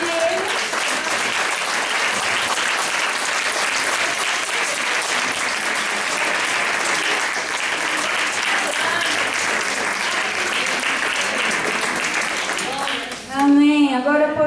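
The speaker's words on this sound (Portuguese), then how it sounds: "Você pode aplaudir Ele?" Sustained applause from a church congregation, dense and steady for most of the stretch, then fading out as a voice begins to speak near the end.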